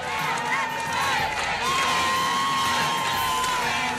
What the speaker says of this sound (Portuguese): Mais de 200 de alunos, pais e também professores gritaram em defesa da escola.